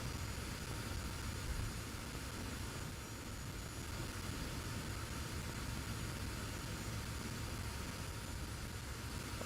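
An F-86 Sabre jet engine roars at high power in the DCS flight simulator, near the speed of sound, giving a steady, dense, wideband rush with a faint high whine, loud and unchanging throughout.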